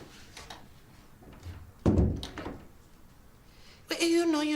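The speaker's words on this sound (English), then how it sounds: "Close the door on your way out." A door closes with a single dull thud in a quiet room during a medical TV drama, preceded by soft movement and followed shortly by someone starting to speak.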